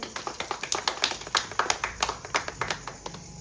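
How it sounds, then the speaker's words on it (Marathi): Rhythmic hand clapping at a Tulsi Vivah wedding ceremony, a steady run of sharp, fairly close claps, several people clapping together in a quick even beat with no voices. "टाळी आता वाजवा"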